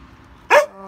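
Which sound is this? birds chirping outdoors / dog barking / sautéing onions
dog barking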